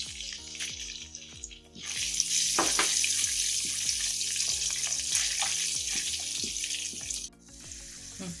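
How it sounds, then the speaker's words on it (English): Ginger garlic paste sautéing with cumin in a pan for a Pune-style vada pav: a steady, bright sizzling hiss swells in after the first seconds and fades near the end, with music-like tones running underneath throughout. "Let it saute for about half a minute"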